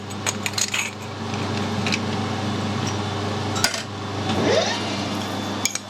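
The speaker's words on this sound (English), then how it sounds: "I'll do the insides just with the deburring tool." A deburring tool chamfers the inside edge of a metal BSP airline adapter, giving scraping, clinking metallic contacts and a few sharp ticks over a steady workshop hum, close and moderately loud.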